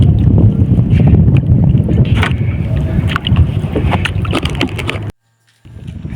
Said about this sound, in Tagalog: pagka yung natural na sound dyan napakaingay dahil mahangin